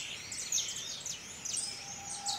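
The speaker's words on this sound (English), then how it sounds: "Bird sound, Yeri." Birds in a music video mood sampler chirping steadily in quick, high, repeated tweets, fairly soft over a quiet background with no voices.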